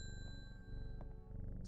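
A bell rung in the video game Strange Horticulture, a short bright ding with a sustained ringing tone over a steady game music bed, no talk.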